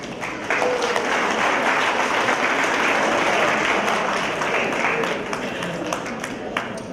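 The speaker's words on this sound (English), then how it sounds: "We can give them a round of applause." Sustained audience applause at a Jewish community Havdalah gathering, a dense, even roar of many hands clapping that holds steady for several seconds with some crowd noise.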